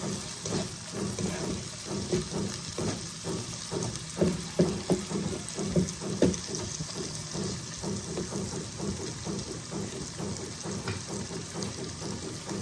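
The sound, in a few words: chicken with chicken masala frying in a pan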